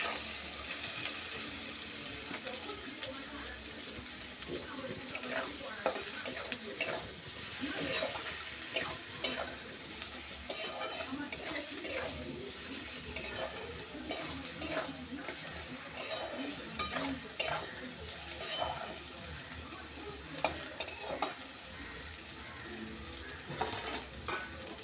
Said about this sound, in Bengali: এবার সব কিছু আমি ভালো করে কষিয়ে নেব।